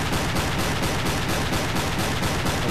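A submarine's deck gun fires in Silent Hunter 3, heard as a loud, dense, steady barrage of rhythmic gunfire thuds that fills the whole moment with no talking.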